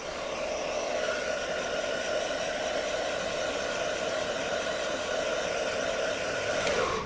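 Hair dryer blowing steadily and close while heating the adhesive under a Tesla emblem, a continuous airy whoosh with a constant hum that holds unchanged for the whole stretch, with no talking over it.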